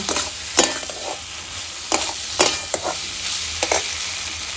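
Fried taro stolons drop into a sizzling pan and are stirred with a fish curry masala, a steady close frying hiss broken by several sharp spatula scrapes and clacks.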